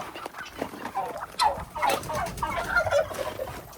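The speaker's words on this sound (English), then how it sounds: "got some turkeys. Turkeys are getting big." Several turkeys gobble in quick, overlapping bursts, close by, with a busy, warbling chatter throughout.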